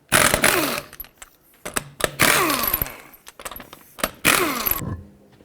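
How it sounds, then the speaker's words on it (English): Bursts of a power impact wrench spinning lug nuts off a front wheel of a 2001-2007 Toyota Highlander with a 21mm socket, three loud close whirring runs separated by metallic clinks and pauses. "21mm socket, take off all 5 of your lug nuts."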